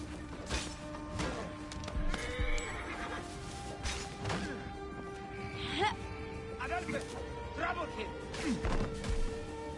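A horse neighs in the Assassin's Creed Origins video game, whinnying amid thuds, hoofbeats and game noise while someone talks over it.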